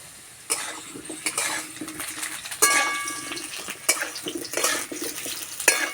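Potatoes fry in oil in a pan beside clinks and scrapes of utensils and cookware, with soft sizzling under irregular clattering taps and no talking.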